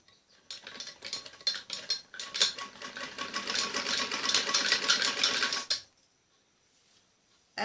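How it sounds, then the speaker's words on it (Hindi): Near, continuous whirr and clatter of a sewing machine stitching two fabric pieces together along the shoulder of a child's umbrella frock, running about five seconds before stopping abruptly, with no voices. "ऐसे दोनों पीस को रख के ऐसे दोनों में सिलाई लगानी होती है।"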